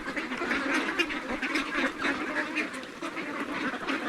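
A flock of farm-raised meat ducks quacks continuously and close by, many overlapping nasal calls forming a dense, busy chorus with no talking.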